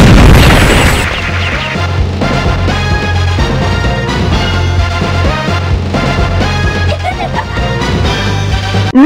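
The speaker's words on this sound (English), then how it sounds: "Laser gun!" A laser gun fires in the Metal Slug arcade game, loud and continuous over booming explosions and driving game music for several seconds.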